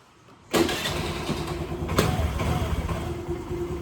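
A Honda Activa 3G scooter engine starting after an oil change, a sudden cranking catch that settles into a steady, close idle hum.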